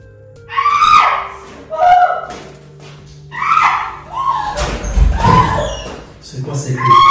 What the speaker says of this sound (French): C'est quoi ces cris?